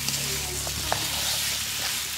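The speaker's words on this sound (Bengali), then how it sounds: "এখন আমি তেলের ভিতরে ভাজে নিব সুন্দর করে" Local chicken fries in hot oil, producing a constant, dense sizzle up close, with a few faint stirring clicks and bubbling pops throughout.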